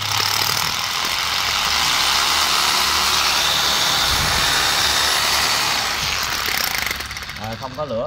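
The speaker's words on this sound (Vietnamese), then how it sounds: "Búa đảo chiều điều tốc." A reversible variable-speed hammer drill runs loud and steady at close range for about seven seconds, then winds down and stops near the end.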